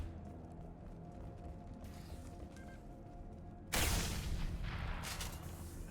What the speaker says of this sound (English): That seemed like a pretty good explosion.